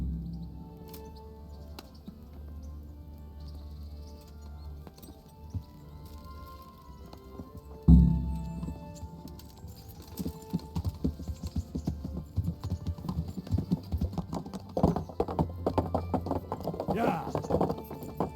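Horse hooves clip-clopping in the medieval game Kingdom Come: Deliverance, a rhythmic trot starting after a loud thump midway, with light clicking alongside and faint background sounds.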